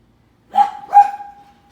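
A dog gives two quick barks close by, the second trailing off into a short whine, with silence around them.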